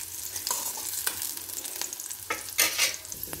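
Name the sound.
ginger and green chilli pieces frying in pan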